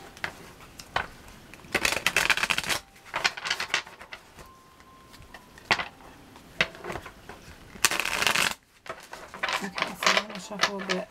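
A deck of cards shuffled during a card reading, in repeated crisp riffling bursts of papery flutter and snapping, close and fairly loud, with short pauses between the shuffles.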